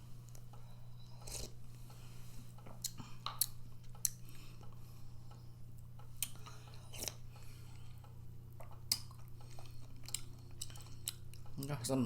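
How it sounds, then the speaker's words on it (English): Someone chews a spoonful of Bear Creek cheddar broccoli soup, producing soft, squishy bites with a few crunchier clicks and occasional utensil taps, close and faint over a steady low hum, with no talking. "Oh, that's must be broccoli. I'm chewing them."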